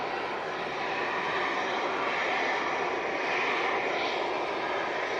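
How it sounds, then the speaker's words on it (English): A Cessna Citation business jet on its landing approach gives a steady, broad engine roar that holds evenly throughout, fairly loud and continuous with no voices. "looks like a BizJet coming in"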